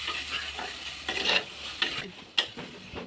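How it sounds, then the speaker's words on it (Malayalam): Masala spices being stirred in a pan for a home-cooked fish curry, with scraping spoon strokes over a soft sizzle and a few sharper clinks against the pan, close and fairly quiet with no talking. "നമ്മളിനി നേരത്തെ വെച്ച മസാലകൾ ഇട്ട് കൊടുക്കാം. ഇളക്കി കൊടുക്കാം."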